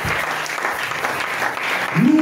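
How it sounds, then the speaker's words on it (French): A church congregation applauds steadily, a dense, even patter of many hands clapping, with a voice breaking out near the end. "Est-ce que tu peux acclamer pour le Seigneur?"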